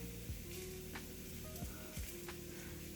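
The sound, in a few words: garlic and chili flakes frying in a pan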